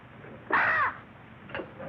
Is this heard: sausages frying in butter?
no